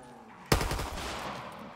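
A single sharp Waffen P30 pistol shot in Black Ops 3 Zombies, a loud close crack with a short decaying tail, preceded by quiet background.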